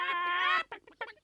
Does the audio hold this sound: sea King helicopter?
no